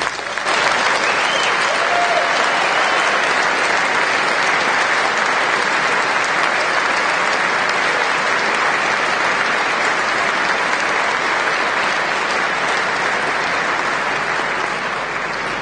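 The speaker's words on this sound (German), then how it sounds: "Applaus" Steady, dense applause from a large audience at a trade union congress opening, loud and sustained throughout with no talk over it.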